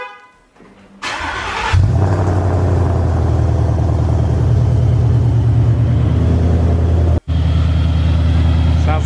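Car engine cold-starting on 93 octane fuel: a short crank, then the engine catches and surges into a loud, steady, rumbling high idle that holds close by, with one brief cut near the end.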